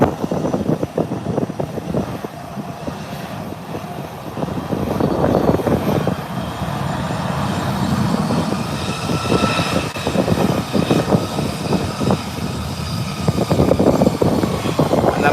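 A jet airliner taxis at Howard Hamilton International Airport, turning around to depart, its engine roar steady and fairly loud throughout with a rumbling low end and a whining upper tone.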